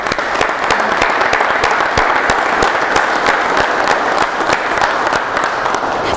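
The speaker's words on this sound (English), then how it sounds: "So can we give him a round of applause," Audience applause at an award ceremony, a full, dense wash of many hands clapping steadily for several seconds, loud and sustained with sharp individual claps standing out and only faint crowd murmur beneath.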